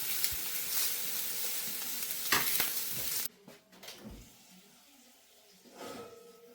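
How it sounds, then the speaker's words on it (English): Spicy sausage sizzles in a hot pan, a bright crackling hiss that cuts off abruptly partway through, leaving quieter clinks and soft stirring sounds. "Put it in a hot pan for 3 minutes, flip it over"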